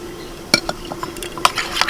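A spoon stirs prawns with salt, turmeric, yogurt and mustard oil in a bowl, several distinct clinks and scrapes against the dish spread over a couple of seconds, close and fairly loud, with no talking.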